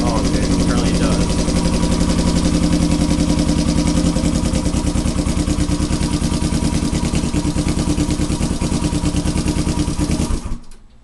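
A small engine that has just caught on its electric starter, a rough-running motor with a clattering, rapid idle, loud and close for about ten seconds before it cuts out abruptly near the end.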